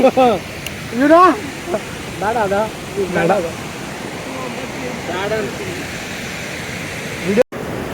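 Fast water rushing near a waterfall makes a steady, broad roar throughout, while several people talk over it.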